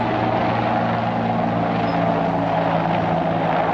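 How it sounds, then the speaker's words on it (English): Steady droning engine and rotor hum of an army helicopter cruising overhead in Montenegro, constant and fairly loud, holding an even pitch without voices. "And we have a army helicopter cruising around here."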